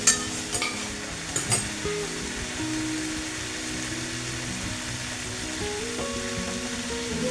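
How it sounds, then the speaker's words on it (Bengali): Potato and cauliflower are stirred into a fried spice paste, a few sharp scrapes at first, then a steady close sizzle with soft stirring under a faint tonal hum. "মশলাটা খুব ভালোভাবে কষানো হয়ে গেছে, তাই আমি আলু ফুলকপিটা মেশালাম।"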